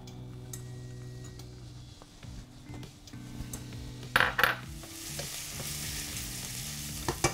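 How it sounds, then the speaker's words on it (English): Diced onions dropped into hot oil in a warm pot, a couple of loud clanks followed by a rising hiss of sizzling that carries on steadily, close by. "I'm going to add in my diced onions"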